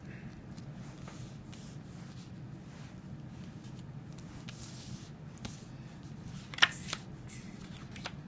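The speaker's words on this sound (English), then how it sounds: "Constantly trying to shuffle cards to make gameplay at least somewhat visible" Playing cards for the Epic card game are shuffled and handled close by, faint soft riffling and rubbing with occasional sharper clicks and slaps, no talking.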